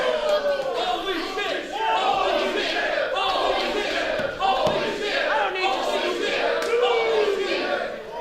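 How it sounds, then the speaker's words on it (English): A wrestling crowd at an independent show chants loudly and rhythmically, a dense roar of many voices filling the space with scattered shouts and thuds. "the crowd here, chanting holy shit for him"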